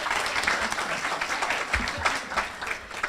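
Applause from luncheon guests at an AAUW Women of Achievement event, honouring a speaker's husband of 45 years; dense, steady clapping fills the room for about three seconds with some faint voices mixed in.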